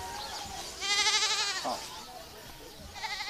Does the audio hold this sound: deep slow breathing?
no